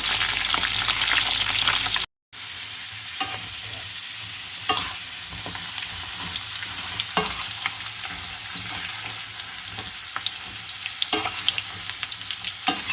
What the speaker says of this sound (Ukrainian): сало піджариться, я туди нарізану під кільцями цибульку